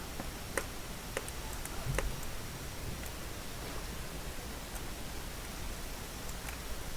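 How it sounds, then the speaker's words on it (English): Steady rainfall in the video game Planet Zoo hisses evenly throughout, with faint scattered ticks of drops and no voices. "you put a stupid amount of rain in this game."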